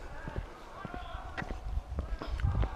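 Horse hooves clip-clop at a walking pace on a hiking trail in Mohican State Park, Ohio, several thuds spread across the clip, mixed with rustling and outdoor background noise.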